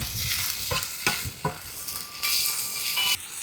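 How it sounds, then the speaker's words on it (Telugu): Masala for an egg chicken omelette roasting in a pan, a steady sizzle under repeated scraping strokes of a spatula stirring it, close and clear, with no talking. "ఇది మనం ఫ్రై చేస్తున్నాం"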